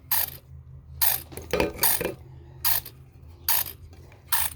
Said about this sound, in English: That it's trying to work, but it just will not pump.